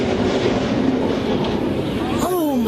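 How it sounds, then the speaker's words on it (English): A freight train rumbles loudly and close past a crossing, a heavy continuous roar, with a sharp metallic screech rising near the end as the train meets a truck stuck on the tracks. "a truck got stuck in the path of a freight train"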